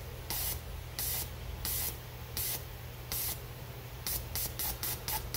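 A Triumph Daytona 675 fuel injector being flushed and tested sprays under pressure in sharp, evenly spaced hissing bursts, then a quicker run of short pulses near the end, close and loud with no talk.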